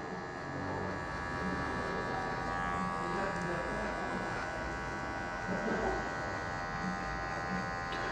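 An electric hair clipper, closed fully for a length about 1 cm shorter, buzzes loudly and steadily during a fade haircut in a barbershop while someone talks over it.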